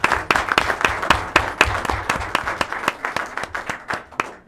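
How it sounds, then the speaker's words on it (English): Audience applause at a school board meeting, a modest group clapping with distinct individual claps, steady then thinning out over a few seconds. "Let's give him a round of applause."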